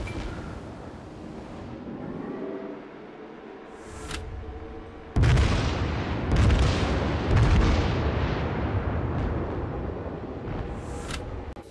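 Heavy battleship guns firing in a naval combat video game, with a few sharp booming salvos rolling out over a constant low engine and sea rumble, loud and close, with no speech.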